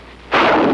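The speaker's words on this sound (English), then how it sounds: "The bazooka." A single bazooka shot from the Korean War, a sudden loud blast that bursts in after a quiet moment and holds as a broad, roaring boom with a rumbling tail.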